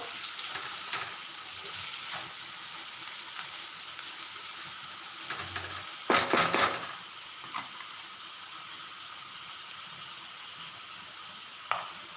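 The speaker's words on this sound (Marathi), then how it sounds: "कांदा एकदम लालसर होईपर्यंत आपल्याला परतवत राहायचं आहे" Onions sautéing in a pan for rajma, a soft, steady sizzle and hiss throughout, with a louder burst of stirring near the middle and a faint clink toward the end.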